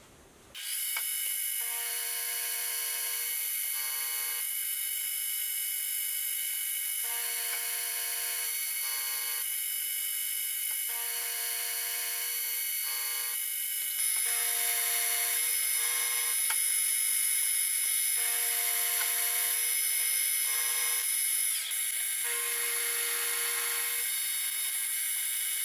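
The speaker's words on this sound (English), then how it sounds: "So first, I need to make up a spline, which I can make using the dividing head and the milling machine." Milling machine with a dividing head cutting a straight-sided six-sided spline, a steady high metallic whine with layered tones that pause and resume in repeating passes, running alone without talk.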